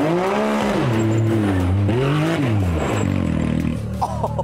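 Loud, continuous exhaust note of a buggy tuned to 400 horsepower, revving up and down in rising and falling sweeps, close and dominant throughout with no talk.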